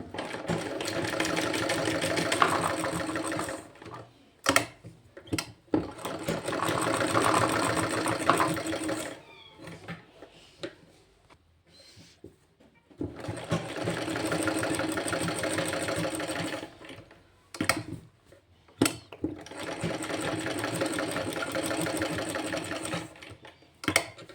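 A sewing machine stitches a V-neck collar in three long, steady bursts of running stitches, each separated by short pauses filled with fabric handling and small knocks, loud and close with no talking.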